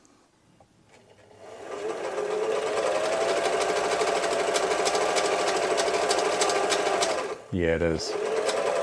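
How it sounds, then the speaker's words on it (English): Singer 247 sewing machine, its cam stack gear cracked, starting up and then sewing steadily with a fast mechanical chatter and a clonking noise, close and fairly loud; the machine pauses briefly near the end and a voice speaks. "I'm actually wondering if that funny clonking noise is still with us"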